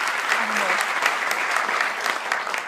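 A lecture audience applauds loudly and continuously, a dense wash of clapping with a few voices faintly underneath.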